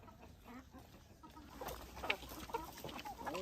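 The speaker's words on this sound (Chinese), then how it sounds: "喂鸡了。" Chickens on a mountain farm cluck softly at feeding time, a low, scattered chatter of several birds that grows a little busier toward the end.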